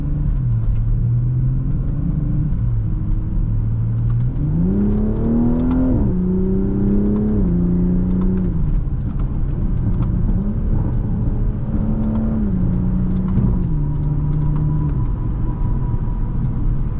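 2020 Toyota Supra 3.0 with a B58 engine, a loud in-car engine drone rising and falling through revs and shifts, with a deep rumble throughout and no distinct exhaust pops standing out.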